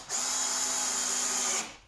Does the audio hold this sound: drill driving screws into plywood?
yes